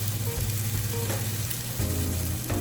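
An egg fries in a pan of sweet potato breakfast hash, a steady close sizzle and crackle running throughout with no talk over it.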